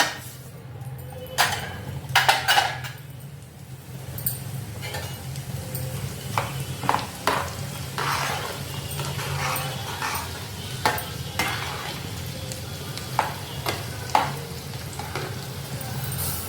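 Fenugreek seeds, chana dal, urad dal and cumin tempering in hot oil for a tomato pickle, with a low continuous sizzle broken by sharp crackles and spoon scrapes and clinks against the pan.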